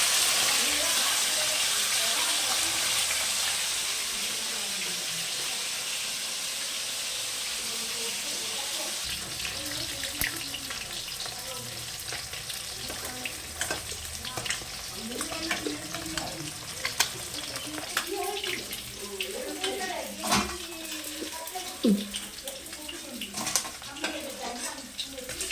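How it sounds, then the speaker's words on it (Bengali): Pieces of snakehead fish rubbed with salt and turmeric fry in hot oil, a steady close sizzle that later turns into an uneven crackle and spatter with scattered pops, with a voice speaking faintly at times. "মাছ কেটে নেওয়া হয়েছে, তো নুন হলুদ মাখিয়ে এই যে ভাজা বসিয়েছি"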